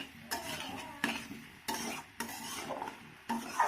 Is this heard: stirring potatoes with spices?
yes